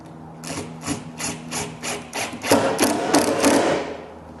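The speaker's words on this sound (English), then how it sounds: "just expose that screw again, drive it in with your screwdriver" A screwdriver drives a screw into the wooden rail of a pool table cushion, heard as a close run of short, regular grinding and creaking turns that grow louder and denser toward the end, with no talking.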